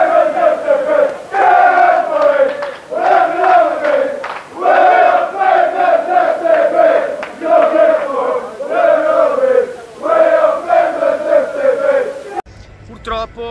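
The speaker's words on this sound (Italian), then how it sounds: "i tifosi del Bruges si fanno sentire" Club Brugge supporters chant in unison at San Siro during a Milan match, a loud, close rhythmic crowd song in repeated phrases with brief breaths between lines, cutting off abruptly at the end.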